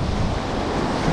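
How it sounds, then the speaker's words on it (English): Surf waves breaking on a windy beach during spring striper fishing, a steady loud wash of water with wind buffeting the microphone throughout, no voices. "Now we're in the surf."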